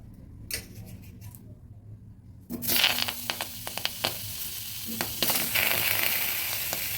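Tomatoes tip into a hot kadai for homemade tomato sauce, setting off a loud, steady sizzle after a quiet start, with scattered clicks and ticks of the ingredients landing.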